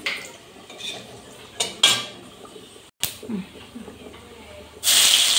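Garlic pieces go into hot oil after chilli powder and whole spices in a home kitchen: utensils clatter and scrape, then a sudden loud, steady sizzle bursts up and holds to the end.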